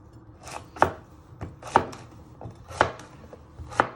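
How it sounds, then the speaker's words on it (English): Knife blade chopping a courgette into chunks on a cutting board, four sharp, close thuds spaced about a second apart with softer taps in between. "Then you just want to cut it into chunks."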